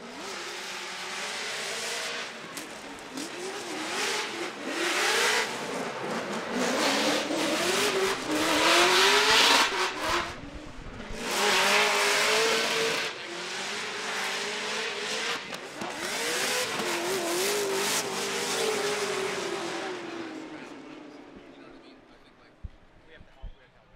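Drift cars battle on the Road Atlanta course at a Formula Drift Top 16 event, including a Nissan S15, engines revving and wailing with rising and falling pitch and bursts of tire noise, loud and steady under a commentator's voice before fading at the end.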